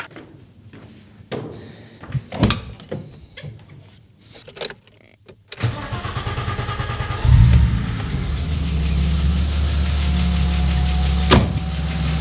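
An overheating BMW with a cooling fault gives a string of sharp clicks and handling knocks, then its engine starts up and settles into a steady, close, low rumbling idle. No one speaks.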